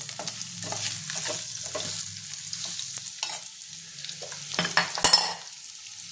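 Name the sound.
taro frying in oil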